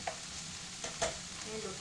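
Vegetables stir-frying in a pan for fried rice, a soft steady sizzle with a few light spatula scrapes and taps, fairly quiet and close.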